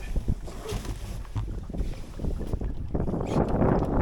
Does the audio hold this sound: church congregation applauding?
no